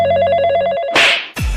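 A telephone rings with a steady repeating electronic trill, loud and close, then breaks off into a sharp crash and clatter as the phone is smashed.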